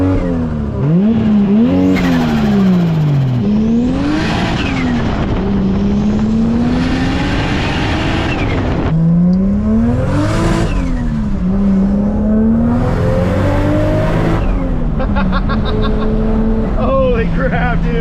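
A 600hp MK4 Supra engine revs hard and repeatedly bounces off its rev limiter, loud and close, with rising and falling pitch sweeps through gear changes on a drive.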